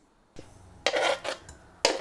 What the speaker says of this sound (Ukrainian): Викладаємо курку в каструлю.